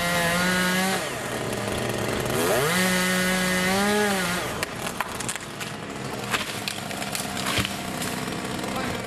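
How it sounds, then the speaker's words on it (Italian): A chainsaw revs with a steady, rising-and-falling engine drone while cutting unstable trees after a landslide, then gives way to scattered cracks and knocks of wood. "La prima già iniziata con il taglio degli alberi pericolanti."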